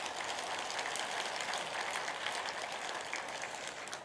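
A church congregation applauding during a Sunday sermon, a steady wash of many hands clapping heard from a distance, sustained and fairly even for a few seconds with no speech over it.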